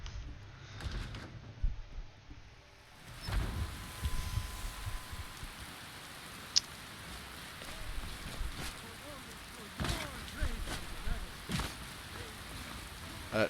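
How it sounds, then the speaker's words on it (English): Heavy rain patters and hisses steadily on a surface, with irregular louder drops and thumps over the continuous wash. "That is a lot of rain."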